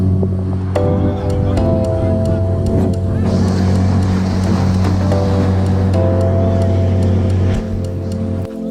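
Skiff boat running on a factory propeller with dings and dents, a loud steady engine drone with shifting pitch, plus water and wind rush close by.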